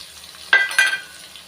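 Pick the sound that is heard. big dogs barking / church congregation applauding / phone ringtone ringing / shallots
shallots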